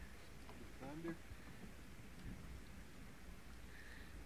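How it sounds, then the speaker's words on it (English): Thunder rumbles at a lake during light rain, a low steady rolling under faint patter of sprinkles, with brief chirpy sounds near the start and no clear talk. "Thunder."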